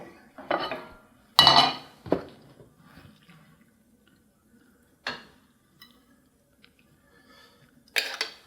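Plates and cutlery clink while fettuccine Alfredo is served onto a plate: a few scattered sharp clatters and taps with quiet gaps between them, close by, no talking.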